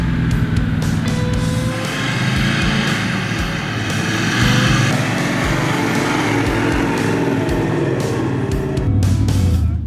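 A 4WD vehicle's engine runs loud and steady on a run-up through powdery sand at Five Rocks, a continuous droning roar with some rattling and clunking from the vehicle.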